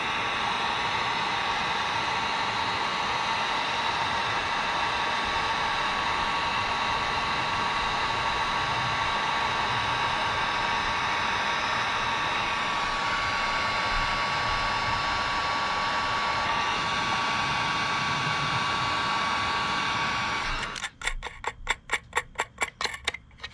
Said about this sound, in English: we just need to get a heat gun and shrink these down